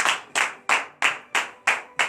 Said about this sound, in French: Donnez de vive acclamation à l'Éternel.